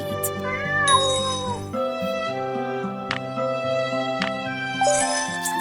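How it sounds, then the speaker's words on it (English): Cat meows from the video game Kitten Match sound over cheerful tonal game music, several short mews standing out close and clear. "Meow, Kitty, are you hungry?"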